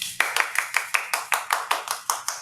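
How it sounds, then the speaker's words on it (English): About a dozen sharp, evenly spaced claps ring out in a steady rhythm, close and distinct, like one person or a small group clapping slowly in a salon. "Can we get a round of applause?"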